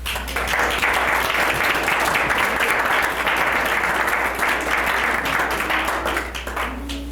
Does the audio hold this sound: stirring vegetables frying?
no